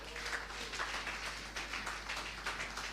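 A church congregation applauds during a worship service, a steady wash of many hands clapping together with no individual claps standing out, filling the room at an even, moderate level.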